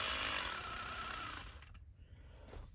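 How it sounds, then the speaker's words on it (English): RC crawler transmission with a misaligned pinion, grinding and buzzing loudly like a rough chainsaw for over a second, then fading and sputtering irregularly. "the transmission sounds a bit like a drunken chainsaw"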